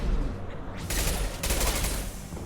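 Bursts of gunfire in Mass Effect Legendary Edition, two sharp rapid sprays of shots over a steady rumbling game background, moderately loud and close.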